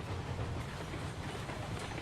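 Train rolling steadily on rails in a railway simulation game, heard from inside the caboose: a continuous low rumble with faint rhythmic wheel clatter, moderately loud and even throughout, with no voices.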